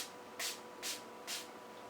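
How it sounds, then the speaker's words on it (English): Skindinavia makeup finishing spray misted onto a face from a travel-size bottle: three short, soft hissing pumps spaced evenly, close and quiet, no talk. "This is my Skindinavia makeup finishing spray"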